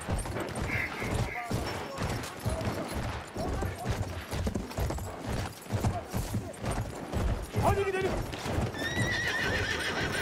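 Horse neighing and hoofbeats in the World War I shooter game Battlefield 1, with steady clip-clop running throughout and a clear whinny near the end, mixed with gunfire, battle noise and voices talking.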